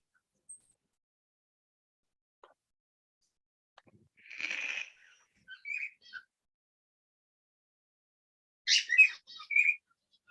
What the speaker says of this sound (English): now my finches are going off